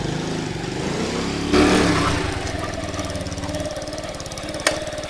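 A Honda CT70 clone motorcycle with a 125cc engine runs steadily close by, its continuous throb rising briefly in a louder burst partway through before settling back to a rough idle, with a sharp click near the end.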